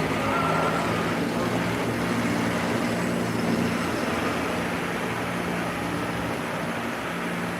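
MBTA New Flyer XDE40 hybrid bus on route CT3, a steady close engine and road hum with a faint whine, continuous and even throughout.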